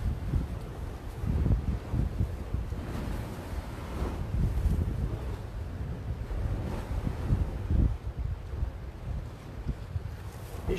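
Rough sea surf breaking at the shore near high tide in unseasonable weather, with steady strong wind buffeting the microphone and repeated wave crashes rolling through continuously, loud and close, with no talk.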